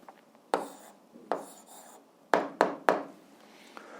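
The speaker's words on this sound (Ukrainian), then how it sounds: "записуємо відповідь, пишемо відповідь" Writing down an answer during an 8th-grade algebra lesson: a handful of sharp, close strokes and taps, spaced irregularly with a cluster of three near the end, in an otherwise quiet room.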